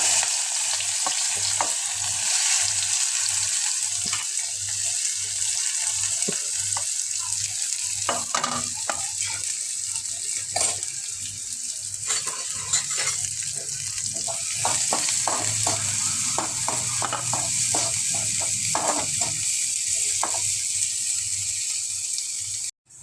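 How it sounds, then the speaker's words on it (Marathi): Onion frying in oil with cumin seeds and curry leaves, a steady close sizzle broken by scraping stirs and clinks of a spatula against the pan, with a faint tap running now and then. "कांदा भाजलेला आहे आता बघा, थोडा ब्राऊन कलर आला आहे."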